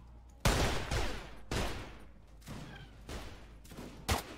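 Gunfire in the Mount and Blade game: five or six loud, sharp shots spaced roughly half a second to a second apart, each with a ringing decay and no voices.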